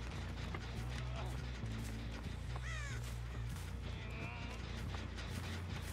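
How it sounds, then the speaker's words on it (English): In the video game Dead by Daylight, a crow caws as it flaps away, its harsh calls rising over dense, steady game ambience and low droning music. "Bird just flew as well."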